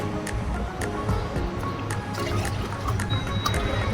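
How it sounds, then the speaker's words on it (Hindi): Slices of orange, lemon and mint go into water to make infused water, giving continuous liquid splashing and trickling with scattered small clicks and knocks, steady and fairly close, with no clear speech over it. "तो मैं इसमें ऑरेंज डाल रही हूँ, उसके बाद मैं लेमन डाल रही हूँ और मिंट डाल रही हूँ"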